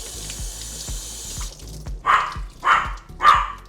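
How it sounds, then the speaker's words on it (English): A puppy in a kitchen gives three sharp, close barks near the end, after a stretch of running tap water and light clatter from cooking prep, with no talking. "there's a puppy wanting to tell us that it's feeding time at the zoo"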